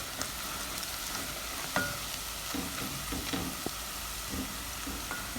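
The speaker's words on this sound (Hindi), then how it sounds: "अब इसको हम भूनते जाएंगे।" Sizzling oil and a spoon scraping through a pan as gobi gosht is fried and stirred, a steady close hiss with scattered clinks and scrapes, no voices.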